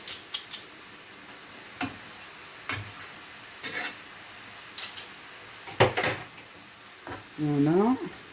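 Two large garlic cloves fry in a pan with reduced spinach, giving a soft, steady sizzle broken by sharp clicks and scrapes from stirring. A short burst of voiced sound comes near the end.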